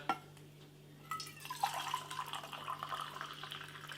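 Quiet kitchen sounds, then hot water starts pouring into a camping cup with a steady splashing trickle that continues to the end, nearby and fairly soft.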